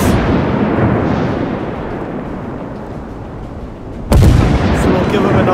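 The battleship Arizona fires a gun salvo in a naval video game, one sudden loud blast cutting in after a long rumbling bed of distant battle noise, with a voice talking earlier.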